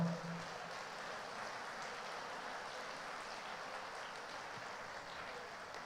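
Retreat congregation claps hands in praise, a soft, dense, continuous patter of many hands heard from a distance.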